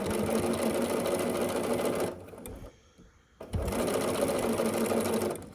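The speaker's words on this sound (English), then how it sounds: "we'll continue sewing the rest of this piece with a 1/4 inch seam allowance" A sewing machine runs a 1/4 inch seam across a nine patch quilt block in two steady, close bursts of fast stitching, broken by a brief pause with light handling sounds, and no talking.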